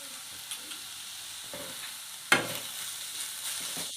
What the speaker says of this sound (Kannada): ಈಗ ನೀಟಾಗಿ ಮಿಕ್ಸ್ ಮಾಡ್ಕೊಳ್ತಾ ಇದ್ದೀನಿ